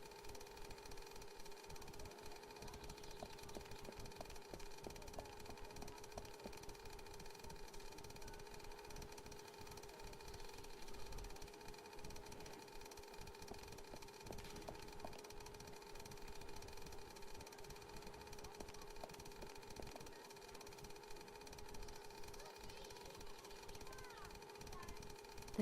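An engine runs steadily in an adventure video game, a low constant mechanical drone with faint tonal hum, quiet and unchanging throughout with no talk.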